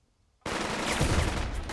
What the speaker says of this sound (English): So we'll shoot.